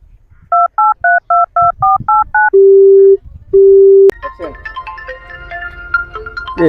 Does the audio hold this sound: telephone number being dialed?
yes